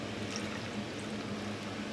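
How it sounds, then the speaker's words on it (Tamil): A small amount of water poured into a pan of cooking kana vazhai greens, a soft, steady, fairly faint trickling pour lasting the full moment with no voices. "இதெல்லாம் வந்து கொஞ்சமாக தண்ணி சேர்த்துக்கலாங்க"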